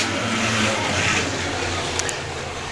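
Six Shooters class race cars accelerating off the green flag at the start of a heat race, a loud blended engine roar from a pack of cars that stays steady and close throughout.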